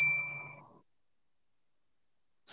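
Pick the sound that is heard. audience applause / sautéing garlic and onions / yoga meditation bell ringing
yoga meditation bell ringing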